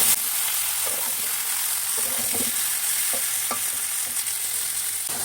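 Mutton cooking with chilli powder, sugar and yogurt sizzles loudly and continuously in a pot while a spatula stirs, adding faint scraping taps under the constant hiss.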